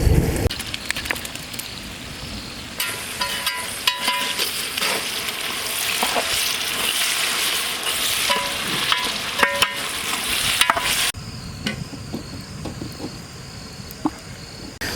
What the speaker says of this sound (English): Now we add ginger garlic paste.